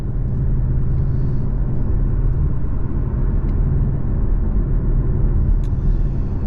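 A 2018 Porsche 718 Cayman with a PDK gearbox cruises in 5th gear at about 45 mph and just over 2,000 RPM, giving a steady, loud low engine and road rumble with no talk.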